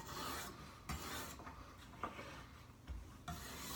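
Knife blade drawn against an iSharp sharpener in repeated rasping strokes, each a soft gritty scrape separated by short pauses, close but quiet, with no voices.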